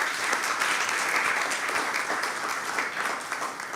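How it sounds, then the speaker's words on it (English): Audience applause at a climate innovation conference, steady rapid clapping from a roomful of people at moderate loudness, continuous for several seconds without voices. "Round of applause."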